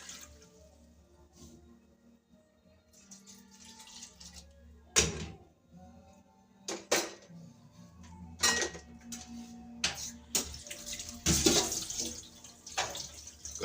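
Water splashes into a cooking pot during Jamaican curry turkey wings and rice and peas preparation, with intermittent pours and pot clatter in a kitchen, fairly quiet and close.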